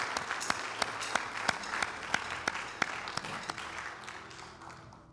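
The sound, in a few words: applause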